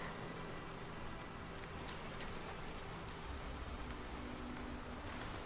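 Steady, even rain falls in the video game Nioh, a soft constant hiss with no pauses or voices, heard quietly throughout.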